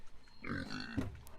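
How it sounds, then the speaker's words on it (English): Growing pigs grunt close by in a farm field muddy after heavy overnight rain, a short run of low grunts. "Y'all, these pigs are getting bigger."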